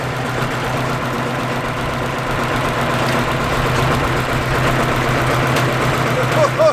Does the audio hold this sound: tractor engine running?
yes